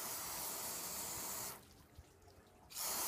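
Water sprayed in a steady hiss onto waxed car paint, cutting off for about a second before the spray resumes at full strength.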